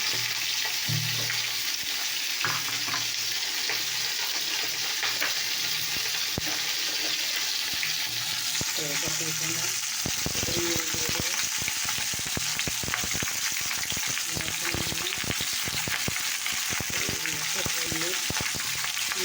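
Cut potatoes fry in hot oil with green chilli, a steady broadband sizzle filling the whole clip, with stirring clatter and scraping picking up in the second half and a voice now and then.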